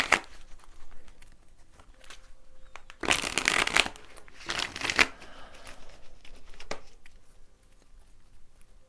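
A deck of tarot cards gets shuffled close by in two or three quick riffling bursts, with faint softer handling between them in a quiet room.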